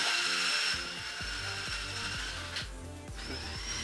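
A drill driving a 3/8 inch bit into a part of an LS engine swap for a Nissan S13, a steady whining motor with repeated low grinding pulses as the bit bites, close and continuous without speech.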